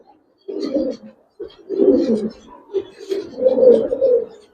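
Giribaz pigeons coo up close in several throaty, rolling bursts with short pauses between them.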